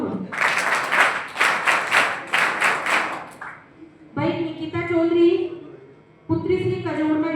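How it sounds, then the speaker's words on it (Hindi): An audience at a school board-exam award ceremony claps for a student, a burst of rhythmic applause that dies away before a speaker's amplified voice takes over. "भाई के लिए भी बड़ी ताली करूं"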